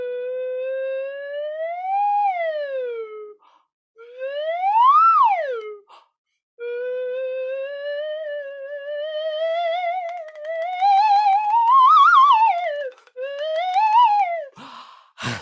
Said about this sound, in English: For the grown-ups, this is called a slide whistle.